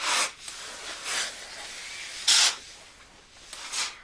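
Bursts of steam hissing from a Laura Star steam iron during pressing, five broad airy puffs in about four seconds, close and fairly loud, the third burst the strongest.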